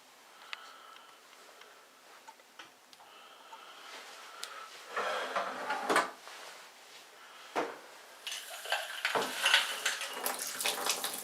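Dirty water splashes and gurgles as it drains out of a rock tumbler drum, starting quietly and growing louder and messier, with a few clunks of handling in between.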